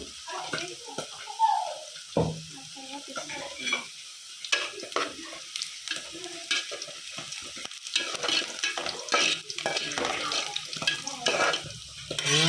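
Green chillies and curry leaves frying in oil as the base for a fish curry, a soft sizzle under repeated stirring scrapes and running-water-like noise throughout.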